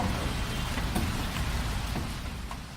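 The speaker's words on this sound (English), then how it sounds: "It doesn't really drizzle here. The rain arrives, and then it leaves." Heavy monsoon rain falls in Mumbai in August, a dense, steady roar of downpour drumming on surfaces, close and continuous without pause and with no voices.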